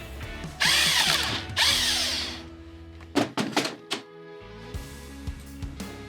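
A power tool works a nut off a 212cc small engine, with two long whirring bursts followed by several short sharp impacting rattles and a final lower mechanical run, loud and close without talk.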